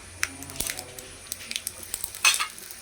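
Dried red chillies sizzle in hot oil for a tempering with urad dal on a cow-dung biogas stove. A faint, steady sizzle runs under scattered soft stirring clicks and pops.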